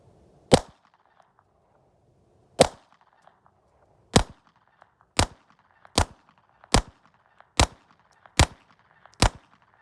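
Eight sharp, loud single shots from a 2024 Walther PPK .32 ACP pistol ring out at uneven intervals, spaced wider at first and then in a quicker, fairly regular string, with quiet gaps between.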